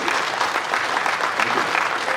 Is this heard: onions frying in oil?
no